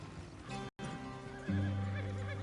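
Horse whinnying in Red Dead Redemption 2, a clear neigh with hoof clip-clop over a game soundscape, growing louder and fuller partway through.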